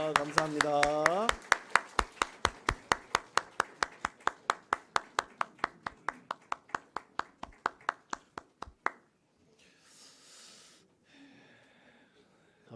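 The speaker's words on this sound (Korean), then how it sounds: "뜨겁게 축복의 박수로 주시기 바랍니다." Congregation at a Presbyterian church ordination and retirement service claps in steady, even rhythm for about nine seconds, starting under a spoken voice, then quiet murmurs and rustling follow.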